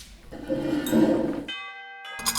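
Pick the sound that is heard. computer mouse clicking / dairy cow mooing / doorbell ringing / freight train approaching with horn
doorbell ringing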